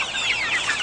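A chicken clucks in a busy yard, its dense, chattering calls packed closely together at a steady, fairly loud level with no voices over them.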